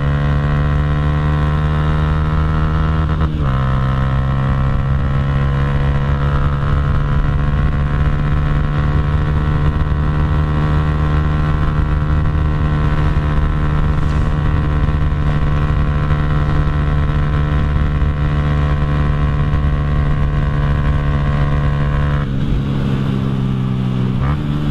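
A loud Honda Titan 150 motorcycle with a Fortuna exhaust and Jet Motos camshaft holds a high, sustained drone at top speed, with a brief gear change near the start and another toward the end.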